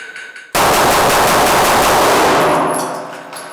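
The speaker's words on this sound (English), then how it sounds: "So now I have more than 6 rounds in the gun, and we're going to hit the 300 beat per minute one more time." A handgun fired rapidly at 300 beats per minute, well over six rounds in one continuous loud burst of shots lasting a few seconds, dying into a fading echo.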